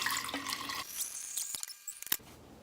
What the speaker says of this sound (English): all we're gonna do is pour our sweet tea into our clean container.